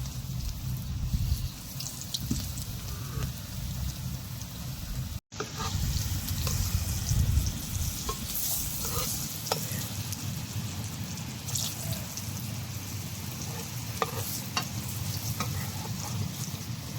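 Shrimp fry in hot oil in a home kitchen, a steady close sizzle and crackle that continues throughout with a brief stir partway, no talking over it.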